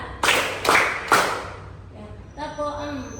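A group in a session claps on a counted instruction, three loud, sharp collective claps in an even rhythm about half a second apart, followed by a voice speaking.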